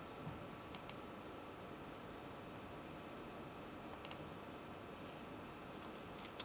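A few faint, sharp computer mouse clicks spaced apart over a quiet room hiss, soft and close, with no talking.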